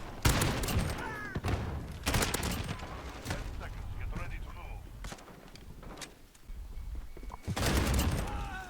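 Call of Duty gunfire in bursts of rapid automatic shots from a hip-fired gun, loud and close at the start and end, with someone talking over the quieter middle stretch.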